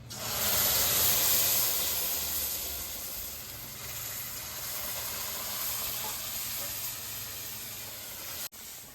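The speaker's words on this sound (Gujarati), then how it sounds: "તો હવે આપણે નાખી દઈશું દૂધ." Milk poured into semolina roasting in a pan for granular sooji sheera, a loud broad sizzle and hiss of steam bursting at once, then settling into a steady, slightly quieter bubbling fry that carries on until an abrupt break near the end.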